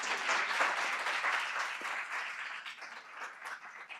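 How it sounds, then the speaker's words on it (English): Audience applause at a talk on economy and the climate crisis: steady, dense clapping from a moderately distant crowd, even throughout and tapering slightly toward the end. "your applause"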